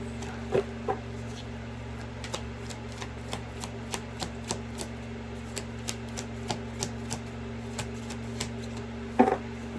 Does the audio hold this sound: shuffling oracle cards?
yes